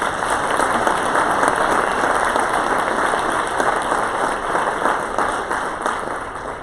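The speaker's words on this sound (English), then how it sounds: "Give her another round of applause" An audience at a summit gives a presenter a sustained round of applause, a dense, steady wash of many hands clapping for several seconds with no talking over it.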